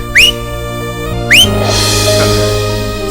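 A person gives two short rising whistles, close and loud, followed by a low steady hum and faint background noise.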